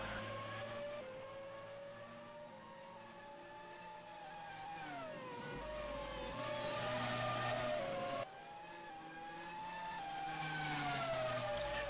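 Formula 1 style racing car engines in a video game race at a Turkish Grand Prix in Istanbul, a continuous high whining roar rising and falling through gear changes, loud and steady with no talk over it.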